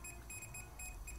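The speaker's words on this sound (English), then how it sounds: "beeping is indicating that there is some power" Quick high-pitched electronic beeps from a non-contact voltage tester detecting power repeat in a steady rhythm, faint and close, over a low background hum.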